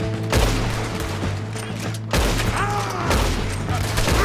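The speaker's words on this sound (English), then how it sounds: "apparently a shotgun just does nothing." Shotgun fire in Red Dead Redemption 2 during a story-mode gunfight, with dense overlapping gunshots and booms in a steady barrage and no talk.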